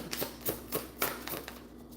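Tarot cards being shuffled by hand, a series of soft, crisp riffling bursts repeating roughly every quarter second, fairly faint and close, with no talk over them.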